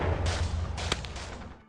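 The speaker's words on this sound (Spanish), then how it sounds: "acompañados por los disparos de armas de fuego" Gunfire in dense jungle as soldiers scatter for cover: a continuous burst of sharp, loud reports with one especially strong crack near the middle, carried over a low rumble and fading toward the end.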